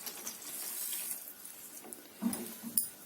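Tamarind juice is poured into a pan of rasam with tomato and spices, a soft splashing liquid pour with a couple of brief louder splashes near the end, no talking.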